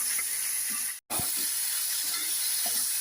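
Okra frying in a pan for a Karnataka-style okra stir-fry gives a bright, steady hiss and sizzle, broken once by a brief silent gap, with a few soft clicks underneath.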